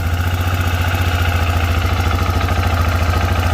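A 2006 Arctic Cat 400 4x4 quad idles up close with a steady, throbbing low engine drone. A rhythmic mechanical clatter from noisy clutches runs through the whole sound.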